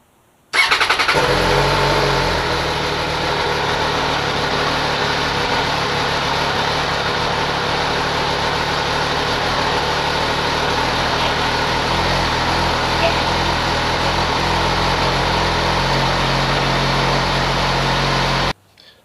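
An MV Agusta F3 motorcycle engine starts abruptly and keeps running loud and steady at idle for about eighteen seconds, close by, then cuts off.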